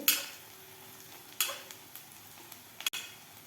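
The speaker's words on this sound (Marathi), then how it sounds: "लाल तिखट आणि हळद आपल्याला अर्धा मिनिट छान अशी परतून घ्यायची आहे तेलामध्ये" Red chilli powder and turmeric sautéed in hot oil for a tomato chutney give a quiet, steady sizzle, broken by a few sharp clicks and scrapes of stirring against the pan.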